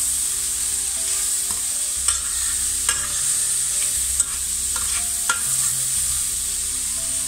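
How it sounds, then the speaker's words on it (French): Vegetables sauté in a pan over high heat for a honey-glazed vegetable dish, giving a steady close hiss of frying with a few sharp clicks and scrapes of stirring, no voices. "faire revenir mes légumes pour qu'ils soient un peu dorés"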